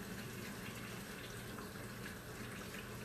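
Tap water runs steadily into a kitchen sink as a spatula is rinsed, a constant faint hiss and splash with no pauses.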